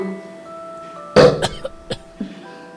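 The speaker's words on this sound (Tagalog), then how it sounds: "Nang biglang merong umubo." A sudden, close cough bursts out of near silence, followed by a few shorter throat-clearing coughs spaced over the next second, with no talking.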